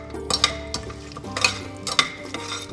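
Cashews with cinnamon, cloves, cardamom, fennel and bay leaf frying in oil in a pressure cooker, a low sizzle under several close spoon stirs and metallic clinks at a loose rhythm, no voice.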